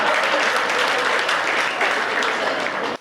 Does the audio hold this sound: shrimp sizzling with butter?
no